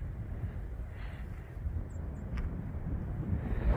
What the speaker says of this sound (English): It's beautiful, but really windy.